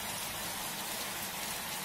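Rain effect from the Pocoyo PlaySet learning game: a loud, close, unbroken hiss of heavy rainfall filling the whole moment without speech.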